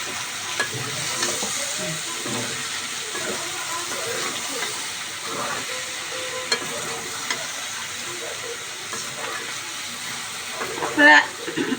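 Vegetables stir-fried in a pan without onion, a soft steady sizzle with faint scraping and stirring throughout, with a brief louder clatter near the end.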